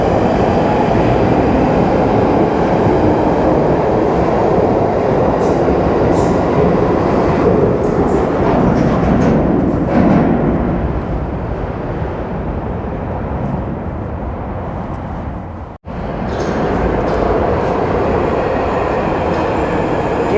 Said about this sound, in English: so now the train is leaving for Morden, calling at Collier's Wood, South Wimbledon and Morden.